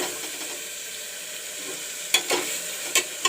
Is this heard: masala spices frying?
yes